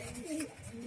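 Young pigeons in a loft give soft, low cooing calls, with a couple of short throaty coos heard up close in a brief moment.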